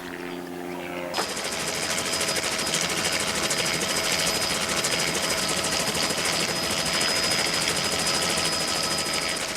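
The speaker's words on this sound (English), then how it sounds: "The helicopter pilot swoops into position" Helicopter rotor and engine roar starting abruptly after a brief quiet moment as it swoops into position to dart a running rhino, then holding steady and loud, close by, with a thin high whine on top.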